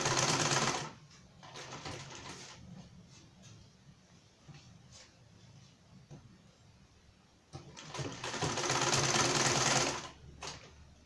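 A sewing machine stitches a two piece shirt collar in bursts, loud close whirring runs at the start and again toward the end, separated by quieter stretches of fabric handling and faint room noise.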